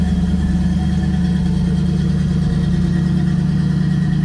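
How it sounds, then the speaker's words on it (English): A car engine fitted with a Holley Sniper EFI throttle body on a Quadrajet intake, after a month parked in a garage, idles loud and steady with a low, even rumble throughout. "Just turned the key, a couple of revolutions over, and it just cranked up just like that."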